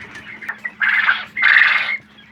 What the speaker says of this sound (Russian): Сейчас пойду поймаю взрослую птичку.